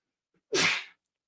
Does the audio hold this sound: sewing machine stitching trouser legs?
no